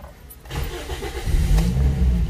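A car engine with its check engine light on cranks and catches, the starter whir giving way to a deep, loud idle that swells and holds close by, with no talking.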